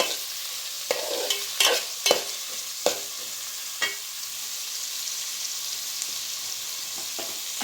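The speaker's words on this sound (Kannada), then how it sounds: "ಈರುಳ್ಳಿ ಚೆನ್ನಾಗಿ ಫ್ರೈ ಆಗಲಿ." Onions frying in a pan, a soft steady sizzle punctuated by a handful of sharp scraping clicks as a spoon stirs them, close and fairly quiet.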